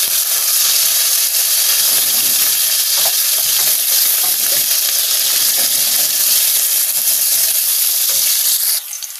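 White onion frying in hot oil gives a loud, steady sizzle with bright hissing and faint stirring clicks, continuous and close until it drops off at the very end.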